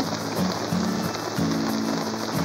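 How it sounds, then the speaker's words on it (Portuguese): Rain falls on water at a fishing spot, a steady close hiss with a low tonal hum rising and falling beneath it. "Tá chovendo até bem, né?"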